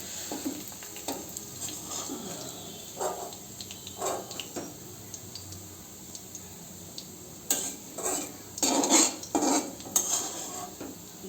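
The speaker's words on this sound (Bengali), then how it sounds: "ফুলকপির বড়াগুলো দিয়ে দিয়েছি তেলেতে, এগুলো আস্তে আস্তে লাল লাল করে ভেজে নেব।" Cauliflower fritters fry in oil with a soft background sizzle, broken by clinks and scrapes of utensils against the pan that grow louder and busier toward the end.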